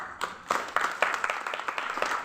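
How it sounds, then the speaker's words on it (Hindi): Audience at a school alumni honour ceremony breaking into applause, a moderately loud patter of many hands clapping that builds and holds steadily. "जोरदार ताली।"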